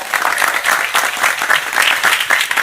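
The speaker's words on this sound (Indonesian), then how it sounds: "Tepuk sing banter bangsamu." Audience applause at an Islamic history lecture, a dense, steady patter of clapping from a crowd that swells and holds for a few seconds without talk.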